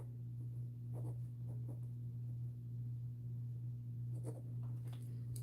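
An erasable pen writes on regular paper, making faint, intermittent scratchy strokes close by over a steady low hum.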